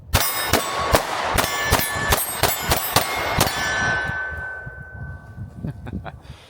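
A Glock 43X pistol fires a rapid string of about ten sharp, loud shots at a range, each crack ringing out. Metallic ringing lingers between shots, and the string ends in a fading tail.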